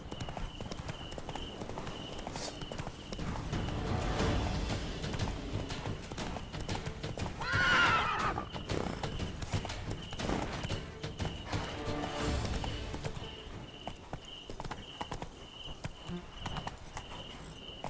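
Roach, the horse in The Witcher 3, trots along in steady rhythmic clip-clop hoofbeats under a faint insect chirp, with a brief whinny midway and a low voice speaking at times.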